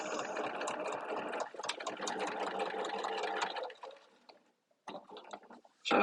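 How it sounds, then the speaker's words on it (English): A home sewing machine top stitching a small fabric project at a quarter-inch seam, a close, steady mechanical whir with rapid ticking that runs for several seconds, then stops and restarts briefly, no talking. "I'm gonna top stitch now"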